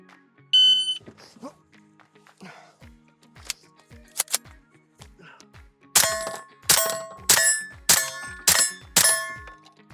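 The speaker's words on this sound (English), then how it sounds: "When the split timer goes, I'm going to pull it, rack it, and then shoot my steel target out there." A split timer beeps at the start, then a Sub-2000 carbine is racked and fired at a steel target outdoors, with clicks and handling noises followed by five sharp, evenly spaced shots ringing with metallic clangs.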